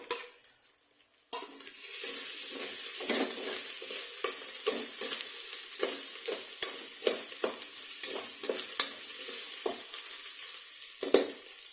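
Onion hitting hot oil in a pan for a beef papaitan dish: a sudden loud sizzle after a quiet start, then continuous frying hiss broken by repeated scraping and stirring clicks.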